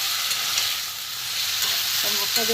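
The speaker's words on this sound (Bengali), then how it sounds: "একটু ভালো করে কষিয়ে নিই।" Soybean curry spice paste sautéed and stirred in a pan, a steady close sizzle with scraping strokes of a spoon near the end, no talking.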